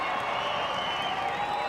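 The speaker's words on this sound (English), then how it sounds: "So the crowd reaction behind the goal signalled a goal" A football crowd behind the goal at North Hobart Oval roars during a 1998 Ansett Cup match between North Melbourne and Carlton, a steady dense wash of cheering heard at a distance.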